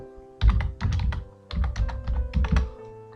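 Bursts of typing on a computer keyboard, close and clear, in quick clusters of keystrokes with short pauses between them while a search is entered in a browser.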